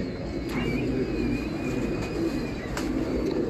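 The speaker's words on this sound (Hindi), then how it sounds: "ये उड़ा हुआ है ना कबूतर" Low pigeon coos from a breeder's loft in Karachi sit faintly under a steady wash of background noise, with a thin whistling tone drifting through.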